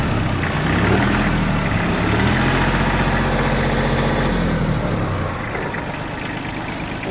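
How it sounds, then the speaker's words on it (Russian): A Mitsubishi MT-181 mini tractor engine idles evenly in a steady, loud mechanical drone that eases slightly near the end; no voices. "мы слышим, что двигатель работает ровно"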